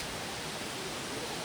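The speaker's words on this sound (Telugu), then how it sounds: "కింద వాటర్ ఫ్లో ఉంది" Water flows beneath a living root bridge at Mawlynnong, a steady broadband rush like a stream or small waterfall, continuous and even, close and moderately loud, with no voices.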